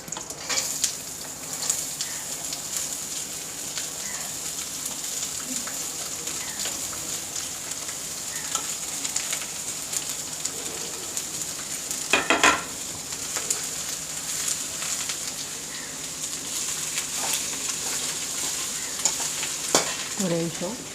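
Shredded cabbage sautéing in a hot pan, a steady close sizzle broken by stirring scrapes, with a louder clatter of the spoon near the middle and again toward the end.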